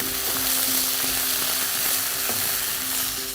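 Ginger garlic paste sizzling in frying onions for aloo dum, a loud continuous hiss close up with a few light stirring scrapes over a low flame, no talking.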